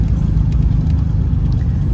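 A 1957 Jaguar XK140 SE fixed head coupe with an upgraded 3.8 litre engine runs close by, a loud, steady low rumble throughout the brief moment.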